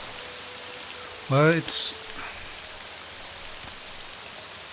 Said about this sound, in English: still get raining noise and thunder